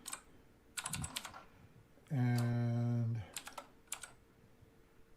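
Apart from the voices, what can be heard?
typing on a clicky USB keyboard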